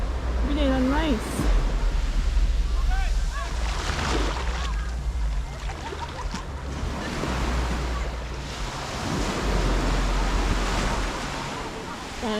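Ocean waves wash onto a beach in Grenada, a continuous rushing surf under steady wind noise, with a few faint bird-like chirps and some distant voices in the background.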